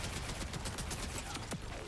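Rapid automatic gunfire in Borderlands 4 rattles continuously as a dense, loud stream of overlapping shots, with no pauses and no talking.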